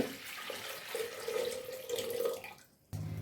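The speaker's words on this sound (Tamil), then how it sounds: "தண்ணி சேர்த்திக்கலாம் ஃபஸ்ட்டு" Water pours into a cooking pot of wild greens from a tap or vessel, a steady close splashing stream that cuts off abruptly near the end, with no talking.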